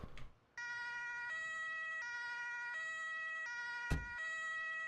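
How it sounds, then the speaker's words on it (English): Electronic-sounding ambulance siren from the video game Emergency 4, alternating steadily between two tones, continuous and fairly close, with a brief click near the start and a sharp thump partway through. "Oh, all of the ambulances have turned up."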